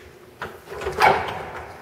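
A garage entrance door in a house operated at close range, with a soft knock near the start and a louder thud of the door moving or closing midway through, fading into a quiet indoor room.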